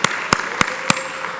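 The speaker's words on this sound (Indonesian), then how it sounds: "Boleh kita berikan tepuk tangan bagi Tuhan Yesus." Four sharp, evenly spaced hand claps at a church service, crisp and close, with no voices over them.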